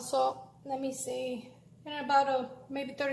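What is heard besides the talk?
None of the usual background noises is heard.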